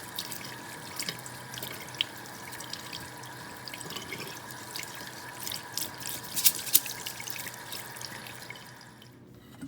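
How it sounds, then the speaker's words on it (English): Tap water running through a strainer of rice being rinsed at a kitchen sink, a steady moderate splash with small drips and clinks, fading near the end. "Now you just let the water just leak out of the strainer"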